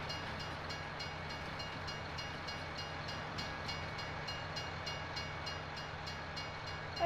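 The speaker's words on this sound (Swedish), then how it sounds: "så får vi stå och vänta på tåget" In Farming Simulator 19, a train pulls in with a steady, faint rumble and a regular clicking rhythm of wheels on rails.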